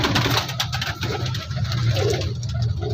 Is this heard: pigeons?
yes